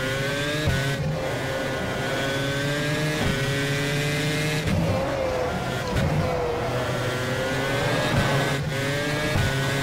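A 2007 Formula 1 car engine in the rFactor racing game holds a loud, steady high-pitched whine throughout, with brief dips and surges as it shifts and revs through corners.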